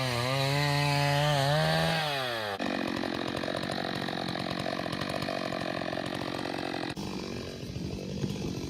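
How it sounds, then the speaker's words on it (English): A chainsaw, its chain lubricated with vegetable oil, revs loudly, then bites into wood with a steady gritty cutting roar before easing off; near and continuous, with no talking. "We use vegetable oil in the chainsaw for the chain"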